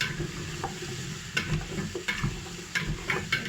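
Vegetables being stirred in hot oil with nutmeg in a pot for a creamy pumpkin and winter vegetable soup, a steady sizzle broken by several scraping stir strokes, close and fairly loud.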